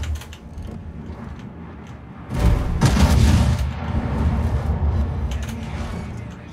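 Battleship guns fire a salvo in a naval video game, heard as a sudden heavy boom followed by a rumbling roll that fades slowly over low mechanical clatter.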